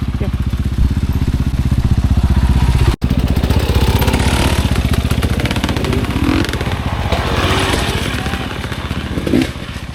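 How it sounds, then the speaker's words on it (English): Motorbikes on a wet, muddy bush track at the Watagans roar past close by, a loud, continuous engine rumble that rises and falls as they go through, with little talk. "There's motorbikes. Do you want to wait for them to go past?"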